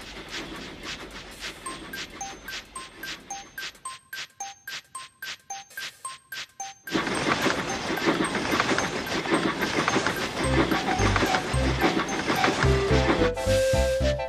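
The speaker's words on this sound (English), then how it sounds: "Unfortunately, his next job wasn't pulling passengers, it was pulling a dirty freight train, and Thomas didn't like that." A steam locomotive hauls a freight train, its rhythmic chuffing and clickety-clack of the wagons joined by bursts of steam hiss and whistle-like tones, growing louder and busier partway through.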